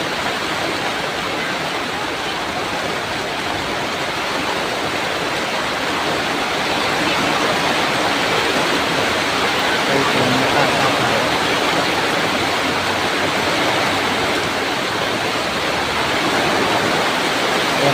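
Dense, steady rain falls continuously, a broadband hiss with no pauses, like heavy rainfall close by.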